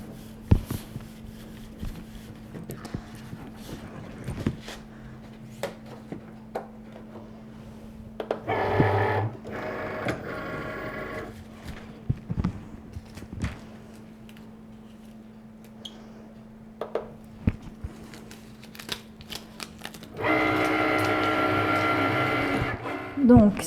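A Cricut cutting machine cuts vinyl in short motorized whirring bursts separated by quiet gaps and small clicks, with a person talking between the runs.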